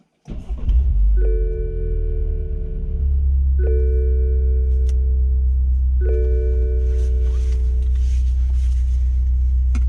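BMW F30 3 Series with an N20 engine and aftermarket exhaust cranks and fires up, then settles into a loud, steady, deep idle drone close by, with a few periodic tonal chimes sounding over it.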